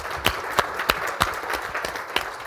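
Audience applause for Mayor Strickland at a plenary session on arts and culture in Tacoma, a dense steady patter of many hands with a few sharper claps standing out, loud and close.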